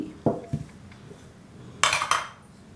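Chopped onion, green chilli, ginger, curry leaves and coriander being mixed in a bowl, a few sharp clinks and scrapes of a spoon against the bowl, the loudest pair near the end, with quiet gaps between.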